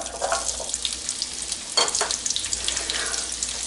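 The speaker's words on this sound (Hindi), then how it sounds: "अब मैंने पैन में 1 टेबलस्पून ऑयल लिया है, और मैं इसमें प्याज जो हमने काटे हुए थे वो डाल दूँगी" Chopped onions frying in a tablespoon of oil in a pan, a steady close sizzle with light stirring scrapes, a couple of brief louder bursts partway through.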